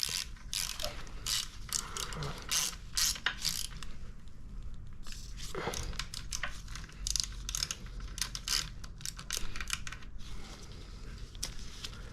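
A ratchet tightens bolts on a floor jack, making quick clicking pawl bursts that start and stop over a low mechanical background.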